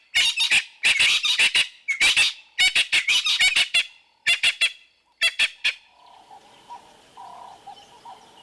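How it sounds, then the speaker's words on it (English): Brown-headed parrots in Kruger National Park give loud, harsh squawks in rapid bursts for several seconds, then fall quiet while fainter distant calls carry on behind. "The only view I was able to get of these brown-headed parrots was at quite a distance."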